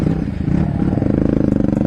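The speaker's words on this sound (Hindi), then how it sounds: "बहुत लाउड हो गया है, बाकी एग्जॉस्ट ना निकले क्योंकि अच्छा से फिटिंग नहीं किया है" A Bajaj NS200 motorcycle with an Akrapovic exhaust rumbles loud and close, its deep exhaust pulsing in a rapid, even rhythm for about two seconds.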